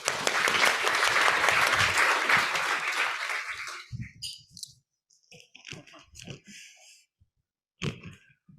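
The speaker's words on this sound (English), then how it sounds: "Please give them a round of applause." Audience applauding panelists at an event on European antitrust policy: dense, loud clapping for about four seconds that fades out, followed by someone speaking alone.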